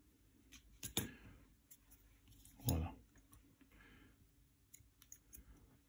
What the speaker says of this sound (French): là on va couper l'excédent de chevreuil